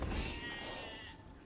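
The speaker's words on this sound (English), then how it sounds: "MbL was able to steal one of the sheep from TheMax" A sheep bleats in an Age of Empires match on an Arabia map, heard as a short wavering cry over steady game ambience and distant low thuds.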